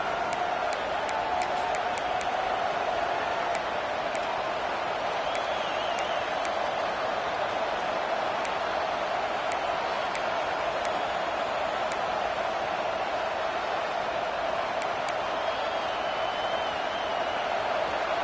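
Crowd noise in a college football video game, with a steady roar of a stadium crowd coming to life as the defense holds in the red zone, continuous and broad without talk.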